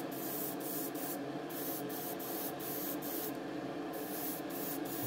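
An airbrush sprays grey primer onto the body of an Aoshima 1:24 scale Nismo Fairlady Z '07 model car, a steady close hiss broken by short regular pauses, with no talking.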